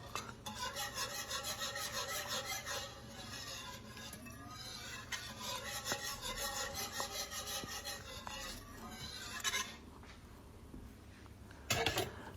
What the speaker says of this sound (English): And I just whisk it away.